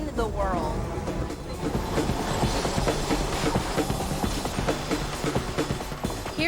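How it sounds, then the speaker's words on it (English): An old double-decker wood-sided tram rolls through Hong Kong, a busy mix of rattling, rhythmic clatter and street noise, with a voice talking over it throughout. "these old trams are the only double-decker wood-sided tram fleet in the world."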